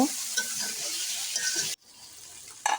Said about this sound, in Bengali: ট্যাংরা মাছগুলো আমি ভালোভাবে নেড়ে চেড়ে কষিয়ে নেব